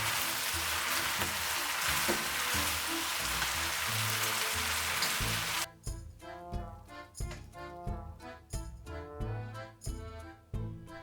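Chicken spaghetti stir-frying in a pan with cilantro and spring onion, first a dense loud sizzle, then a lighter crackle broken by rhythmic stirring scrapes and clatters, close and with no talk.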